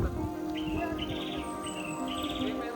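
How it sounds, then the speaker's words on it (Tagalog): Birds chirp in short repeated phrases over a faint background hum, a few trilling calls spaced about a second apart. "mga huni ng ibon, oh"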